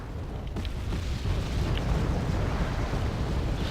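Mortar rounds bursting in Wargame AirLand Battle, a dense, continuous rumble of distant explosions with a few faint pops, with no clear separate blasts.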